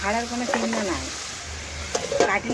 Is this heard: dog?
no